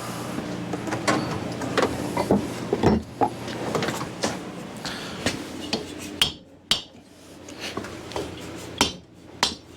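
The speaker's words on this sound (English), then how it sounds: "Dead blow just to free them and break that gasket seal." A dead blow hammer taps on the cylinders of a swap meet chopper motorcycle engine to free them and break the gasket seal, giving a series of sharp, irregular close knocks over a low background rumble.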